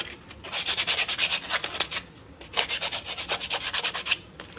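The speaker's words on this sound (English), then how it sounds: "So you'll take the sandpaper and gently sand it." Sandpaper rubs back and forth in quick, rhythmic strokes on a wire sculpture base, close up, in two bursts separated by a short pause.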